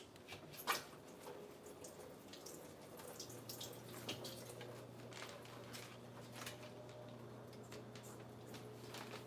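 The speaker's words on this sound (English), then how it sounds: "now I've got some fresh raspberries. I'm just going to give them a quick rinse." Fresh raspberries get a quick rinse under a running tap, a soft steady stream of water with light splashing and a few drips, fairly faint and without voices.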